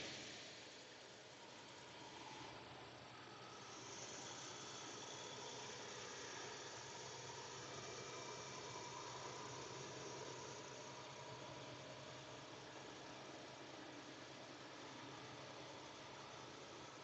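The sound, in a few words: truck engine while driving on highway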